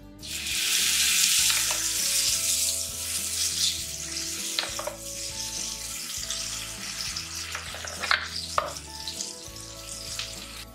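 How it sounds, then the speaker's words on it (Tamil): Ground jackfruit hits melted ghee with a loud burst of sizzling that settles into a steadier fry, broken by spatula scrapes and knocks against the pan as it is stirred. "நெய் நல்லா உருகினதும் மிக்சியில் அரைச்சி வச்சிருக்கிற பலாப்பழத்தை பாத்தில் போட்டுடலாம்"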